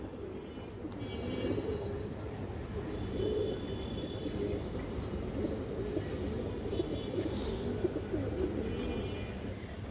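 Pigeons from high-flyer and release lines, including Beji, Gorra, Khaki, Silver and Bagha types, coo continuously in a low, dense chorus, fairly faint and even throughout.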